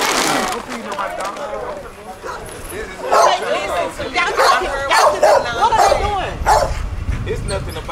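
Pit bull puppies or dogs bark, yip and whimper in repeated loud bursts, close by, with people talking throughout.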